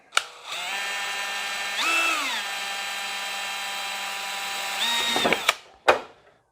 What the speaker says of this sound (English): so that was 2 holes drilled with the DeWalt